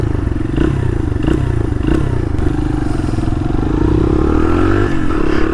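A street-legal dirt bike, freshly given a top-end rebuild, revs loud and close with sharp throttle blips and a rising, clattering engine note throughout, no talking.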